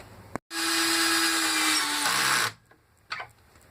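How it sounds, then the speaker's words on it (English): A power drill bores pocket holes into a wooden board for a farmhouse end table, one loud, steady whine of about two seconds that drops in pitch as it winds down, with a brief clatter afterward. "so here we are drilling some pocket holes in our board here"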